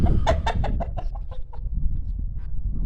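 A rooster clucks in a quick run of sharp, close calls that slow and fade, over a low rumbling background.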